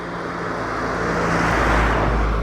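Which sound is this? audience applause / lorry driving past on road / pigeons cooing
lorry driving past on road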